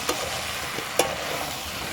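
Fried soybean chunks stir-fried in a pan with spices, a soft steady sizzle broken by a couple of sharp spatula clinks against the pan, close by and with no talking.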